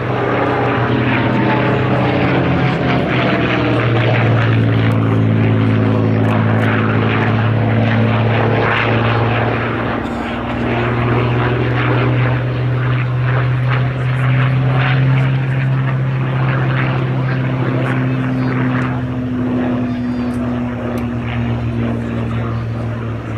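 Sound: P-51D Mustang aircraft with Packard-built Rolls-Royce Merlin engine flying

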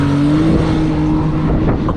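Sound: car driving past at speed

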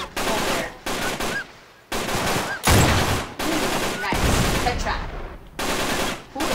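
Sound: gunfire from the video game Uncharted 3

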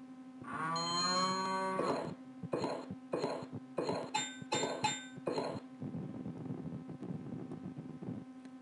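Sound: cow mooing in educational rounding game

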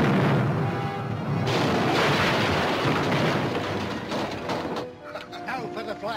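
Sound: cannon firing in an old adventure film

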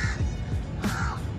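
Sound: crow cawing

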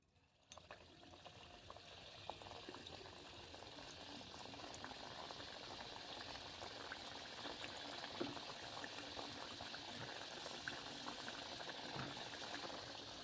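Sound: jalebi frying in hot oil

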